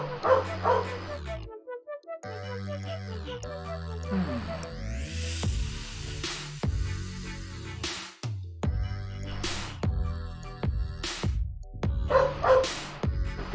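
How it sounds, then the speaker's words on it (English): A dog barks and yips excitedly in repeated bursts amid the music and sound effects of the Tex Murphy: Under a Killing Moon point-and-click game, with a few sharp clicks in between. "Dog is going a little nuts."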